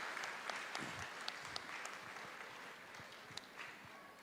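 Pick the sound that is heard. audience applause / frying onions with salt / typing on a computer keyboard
audience applause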